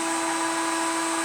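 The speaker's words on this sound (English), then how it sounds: "So we've got the heat gun going on it, get the engine case nice and warm" A heat gun blows hot air onto a Jawa Land Patrol motorcycle engine case, giving a steady, unbroken high-pitched whine with a constant hiss throughout, close and fairly loud.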